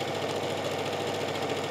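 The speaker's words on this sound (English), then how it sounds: "So I'm just going to sew down the rest of this." A sewing machine runs steadily, stitching down a sleeve seam on a peasant blouse, its needle chattering in a fast, even rhythm throughout, close and alone.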